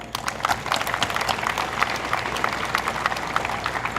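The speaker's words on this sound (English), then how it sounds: "Can we give them a round of applause?" A crowd at a 9/11 memorial stair climb event applauds the Olmschneider and Hill families with a loud, steady wash of clapping that holds throughout.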